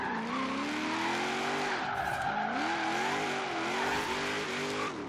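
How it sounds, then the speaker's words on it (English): A V8-swapped Honda NSX drifts in Forza Horizon 3, its tires squealing continuously over a loud, rising and falling engine drone, with a brief lift and catch midway before the slide resumes. "Let's see if we can actually do some drifting here."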